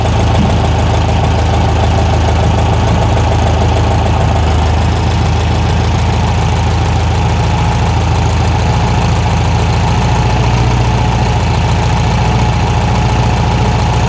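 A 1973 VW Thing engine idling while the carburetor idle is adjusted, with a loud, steady low rumble and a constant fast throb that holds without a break.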